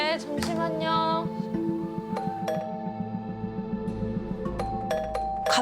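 A home doorbell rings again and again in sharp chiming bursts, several in quick succession and then more spaced out, loud and close over a steady low hum.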